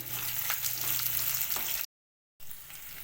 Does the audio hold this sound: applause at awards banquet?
no